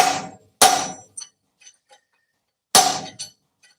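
A homemade steel chisel is struck hard with a hammer while cutting steel: two loud, sharp metallic clangs about two seconds apart, each ringing briefly, with faint small ticks between.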